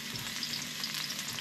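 Garlic and ginger frying in oil in a large pot over medium-high heat, a dense steady sizzle close by with no voices.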